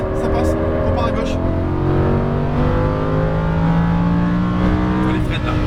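A Lamborghini Huracan LP610 accelerates on a racetrack, its engine note rising in steady harmonic sweeps that climb and fall as it changes pitch, loud and continuous, with an instructor's voice talking over it throughout.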